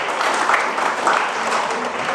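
Audience applause at a live trivia game show event held at the Boston Marathon, a steady, dense wash of clapping lasting a couple of seconds with no break.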